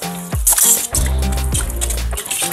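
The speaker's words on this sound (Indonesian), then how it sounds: "baru kita semprot menggunakan botol ini seperti ini" Water sprayed hard from a pressurized plastic bottle, a steady hissing jet in short bursts alongside wet splashing, close and fairly loud.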